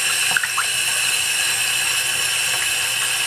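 A Brymen 121GW multimeter is dunked in water, giving steady loud splashing and rushing water throughout with a few brief bubbling blips, close up and without talking.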